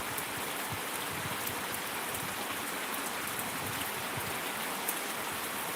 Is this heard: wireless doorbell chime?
no